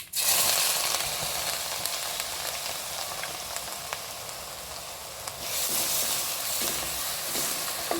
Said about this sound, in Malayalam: അപ്പോൾ നമ്മളെ കടുക് നന്നായിട്ട് പൊരിഞ്ഞിട്ടുണ്ട് ഇതിലേക്ക് നമുക്ക് ഇഞ്ചി വെളുത്തുള്ളി